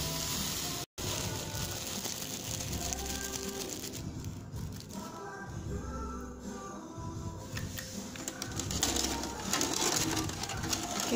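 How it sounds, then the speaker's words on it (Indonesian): Soybean milk with ginger comes to a boil in a pot on a stove, giving a continuous bubbling, sizzling patter of small popping bubbles with a faint cooing-like texture, steady and close throughout. "Kalau udah mendidih kayak gini ya, tuh udah ada meletup-letup kecil."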